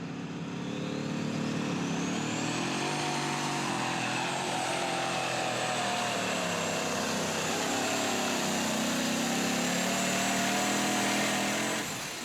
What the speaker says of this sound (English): you could hear that V8 was just absolutely huffing